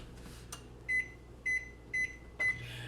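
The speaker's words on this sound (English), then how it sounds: "Pop them in the microwave for just a minute, just so I can get them apart." A household microwave oven warming food gives four short, even electronic beeps over a faint, low running hum, quiet and close, with no talking.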